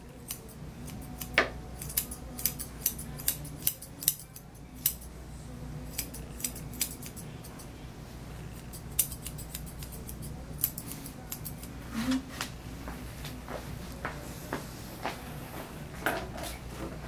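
Scissors snip steadily at close range while trimming a Maltese dog's coat during grooming, a run of quick metallic clicks at an irregular rhythm with no talking.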